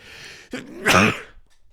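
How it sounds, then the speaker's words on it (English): A single sneeze: a short intake of breath, then a sharp, explosive burst, a little off-mic, followed by quiet. "I turn away from the mic to sneeze"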